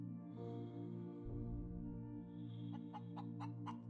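A chicken-on-a-stick item in the space survival game Breathedge gives a handful of short, quick clucks toward the end, over a steady humming game soundscape.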